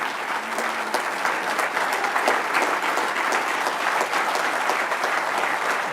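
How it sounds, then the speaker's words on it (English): An audience gives a round of applause for two teams standing up at an event, a dense, even roar of clapping that holds steady from start to finish with no speech. "each one of you, maybe stand up one more time for a round of applause"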